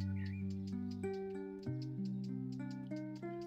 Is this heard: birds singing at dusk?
yes